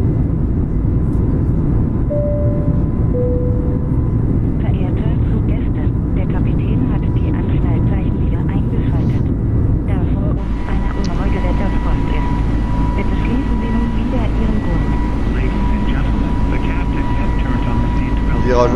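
An easyJet Airbus A320neo taking off from runway 07 at Lille and climbing, with a loud steady engine drone and rumble throughout as crew voices talk over the cabin noise.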